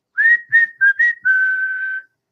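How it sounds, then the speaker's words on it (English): A person whistles close and loud: four short rising notes, then one long held tone. "I got to do this by whistle because I don't have the machine anymore."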